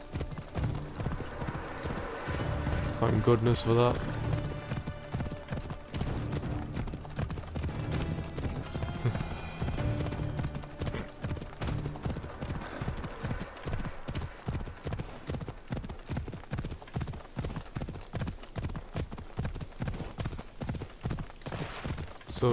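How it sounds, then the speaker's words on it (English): A horse gallops in Assassin's Creed Odyssey with rapid, steady hoofbeats throughout and a neigh near the start. Game music plays underneath, and someone briefly speaks over it. "So it seems that my horse has won the race."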